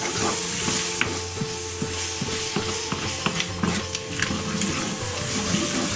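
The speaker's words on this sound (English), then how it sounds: "So we're still on a medium heat now, and I'm just going to allow them to go a golden brown, stirring them every couple of minutes." Onions for a lamb bhuna frying over medium heat, a steady close sizzle with repeated scraping and knocking from stirring, no one speaking.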